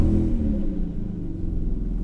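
A Lexus GS300 car engine idles with a steady low rumble, close and continuous, with no voices.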